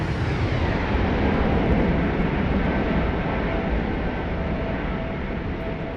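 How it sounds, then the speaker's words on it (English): A default-sound Airbus A321neo flyby in the X-Plane flight simulator: a loud, broad jet roar that holds steady and then eases slightly as the aircraft passes, with no talking over it. "That flyby sound is... It's pretty damn good."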